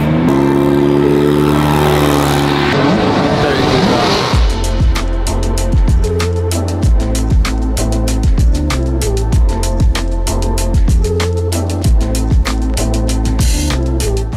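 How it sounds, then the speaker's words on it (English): A loud car engine at a drift event roars and revs, then settles into a rumbling, pulsing beat with rapid rhythmic bursts continuing throughout. "I think that is the best sounding engine in the world"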